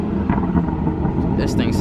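A BMW 340 with an M Performance exhaust revs at a car meet, its low engine rumble steady and fairly close, rising slightly toward the end, while people talk over it.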